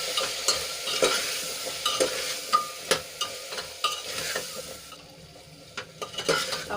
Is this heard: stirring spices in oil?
yes